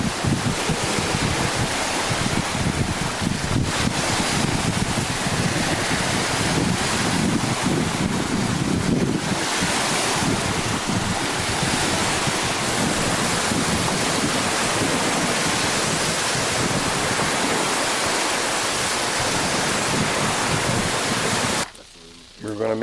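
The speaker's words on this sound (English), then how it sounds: "get a few of the waves." Waves on Murtle Lake in central British Columbia, a steady broadband wash of water and surf mixed with heavy wind buffeting the microphone, continuous and loud for about twenty seconds before a brief drop near the end.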